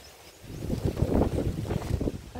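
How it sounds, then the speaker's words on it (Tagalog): Wind gusting through a vegetable garden with eggplant and chili plants, a low rumbling buffet of air against the microphone that swells in the middle and then eases, with no voices. "Dahil mahangin na nga"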